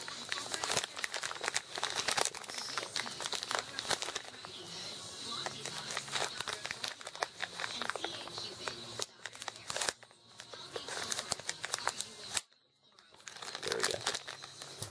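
Plastic blind box packaging bags and tape for S.I.C. Tamashii Damashii figures are handled and opened close by, a busy stream of crinkling, rustling and tearing with a short pause near the end.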